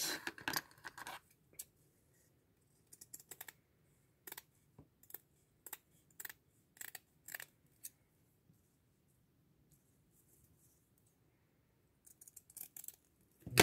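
Scissors snipping through jute burlap fabric while making an Easter tag craft: a quick burst of cuts, then a series of separate, crisp snips spread across the clip, close and fairly quiet, with no talking.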